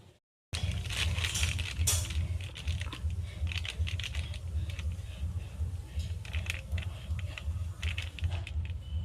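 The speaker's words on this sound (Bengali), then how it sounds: "দিদি কত সহজে মাছটা কাটছে দেখুন।" A knife cutting a kuchia eel on a hard surface gives rapid, irregular tapping and crunching clicks over a low steady hum.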